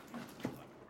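A dog gives a soft, brief whimper or yip near the middle, faint and close over a quiet indoor background.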